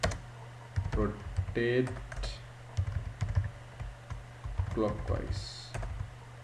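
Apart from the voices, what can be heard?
typing code on a computer keyboard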